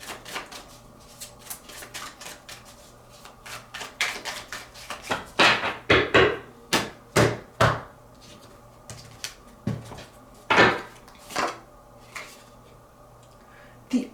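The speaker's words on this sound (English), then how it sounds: "3 more shuffles" A deck of tarot cards is shuffled by hand in repeated quick riffles. The crisp, clattering bursts are close and come in uneven groups, with quieter shuffling between them and no talking.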